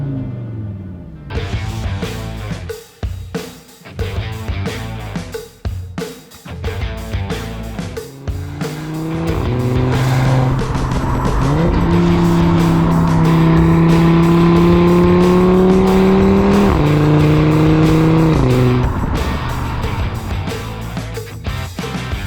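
An Audi RS3 8V with a 2.5-litre turbocharged five-cylinder engine making 367 horsepower starts with choppy blips and bursts. It then pulls through long, loud accelerations with rising pitch and clear gear shifts, heard up close from the cabin.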